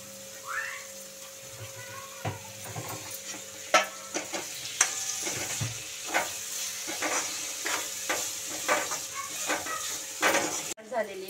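Tomato is stirred into ginger-garlic paste frying with bay leaf and whole spices, producing a steady sizzle under frequent metal spoon scrapes and clinks against the pan in an uneven rhythm, close by, with no speech.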